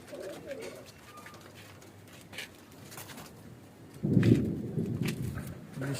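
Andhra pigeon giving soft, low coos, first faint and then louder and fuller near the end, with scattered rustling and flapping-like noise nearby.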